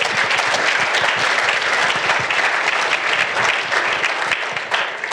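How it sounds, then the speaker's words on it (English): Loud, sustained applause from a crowd at a research showcase, dense clapping that carries on steadily and begins to thin out at the very end. "Let's give them a big round of applause."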